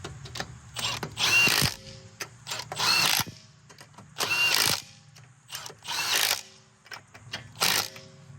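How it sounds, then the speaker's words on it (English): Torque wrench tightening the rear wheel lug nuts to 120 newton meters on a 2014 Subaru Forester, giving about six close, loud bursts of mechanical ratcheting separated by short pauses. "we'll take the torque wrench, torque those to 120 Newton meters"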